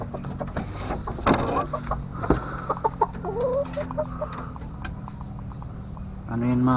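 A roughly two-month-old golden hats chicken clucks repeatedly close by in short, uneven bursts, with a person talking and other farmyard noise around it.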